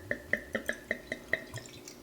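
Non-alcoholic wine glugs from a bottle into a glass in a quick, evenly spaced series of about seven close, soft liquid pulses, then tapers off.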